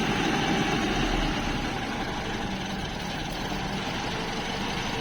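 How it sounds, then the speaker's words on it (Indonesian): A 1997 Mazda Vantrend engine idling smoothly, a steady, even low rumble with a constant mechanical hum and no revving, heard alone. "Nah, ini untuk suara mesinnya. Jadi mesinnya masih halus."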